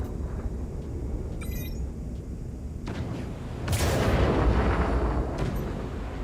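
Rumbling blasts and booming impacts from incoming missiles in a space combat video game, a muffled explosion near the start and a louder, sustained blast swelling in the second half.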